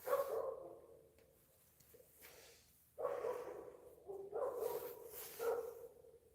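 A dog barks a few times in the early morning in a quiet house, short irregular yips and woofs heard from a distance with pauses between them.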